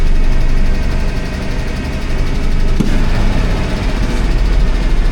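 A car engine idles steadily after warming up, its low, even rumble close and loud with a slight wobble in rhythm and no voices over it, on a vehicle being brought back on the road after nearly fifteen years.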